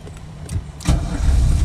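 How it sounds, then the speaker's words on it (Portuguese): A Chevrolet Corsa fitted with an aftermarket push-button start/stop system, a few clicks followed by a quick start catching into a low rumbling idle, close to the car. "Olha só como é que o cara liga o carro aqui."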